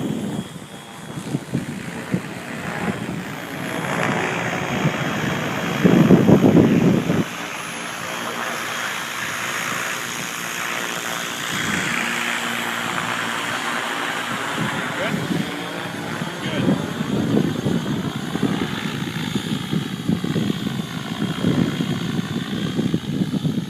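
Helicopter flying over the back of a golf clubhouse, a continuous close rotor and engine drone that holds steady throughout, with a brief louder burst early on.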